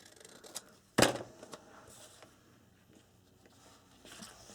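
Scissors trimming paper for a handmade calendar book album, a single sharp close snip standing out against a quiet room, followed by faint rustling handling sounds.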